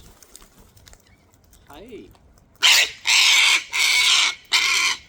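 Wild birds gather at a feeding spot, a few soft calls first under a voice, then four loud, harsh squawks in a row from a juvenile bird, close by and each lasting about half a second.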